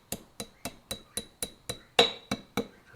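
A small pin tapped into the dovetail of a bench vise under repair: about ten sharp metallic taps at an even pace, with one stronger ringing strike near the end, close and clear.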